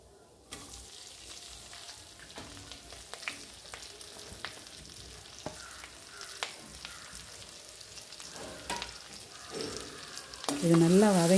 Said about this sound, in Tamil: வெங்காயம், பச்சை மிளகாய், கருவேப்பிலை சேர்த்து நல்லா வதக்குறோம்